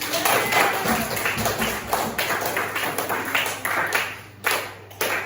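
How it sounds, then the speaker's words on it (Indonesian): Students in a classroom clap for their classmates, a lively, uneven round of nearby hand claps that thins out and ends with a few scattered claps. "berarti tepuk tangan buat teman-teman"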